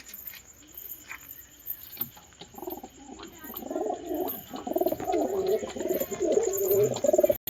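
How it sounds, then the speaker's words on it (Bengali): Pigeons, including a pair of red Giribaz, coo in low, throaty bursts that grow louder and more continuous as the birds settle, with soft fluttering and scratchy patter close by and no talk. "ছেড়ে দেখাচ্ছি পায়রাগুলোকে"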